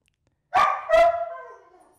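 A dog in a live TV studio gives two loud, close barks in quick succession, the second trailing off into a short fading whine, with no other sound around them.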